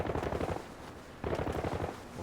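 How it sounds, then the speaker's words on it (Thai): Two bursts of rapid automatic gunfire in the video game Arena Breakout, muffled and somewhat distant, separated by a short pause. "เสียงปืนอยู่ไกลออกไป"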